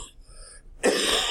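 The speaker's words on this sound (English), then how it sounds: "now it's settled into a pretty aggravating cough" A person coughs once, a short, close, harsh burst after a moment of quiet.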